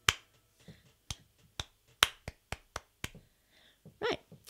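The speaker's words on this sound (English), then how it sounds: "You're going to clap this back." A single pair of hands claps back a short rhythm in a music ear test, about a dozen sharp, close, dry claps in an uneven pattern, alone without speech.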